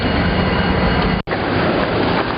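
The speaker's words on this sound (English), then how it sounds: "here comes the late night Seattle train" A late-night freight train approaching on the Seattle line, a loud, steady rumble of rolling wheels and rail noise close by, broken only by a split-second dropout midway.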